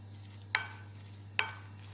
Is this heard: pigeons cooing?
no